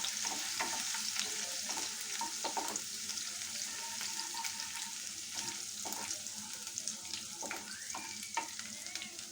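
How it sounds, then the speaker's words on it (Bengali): Chopped garlic frying in a hot pan for a kadai chicken: a steady, close sizzle with frequent crackles and stirring clicks throughout, no talk. "রসুন কুচিটা একটু ভেজে নিই"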